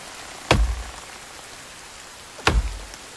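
Steady rain hisses in the background of the video game The Forest 2, broken by two heavy, booming thuds a couple of seconds apart.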